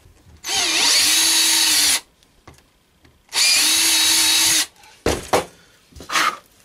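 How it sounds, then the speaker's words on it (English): A power drill whines loudly in two sustained bursts of about a second and a half each, followed by a few short knocks and scrapes. "time to drill some holes here"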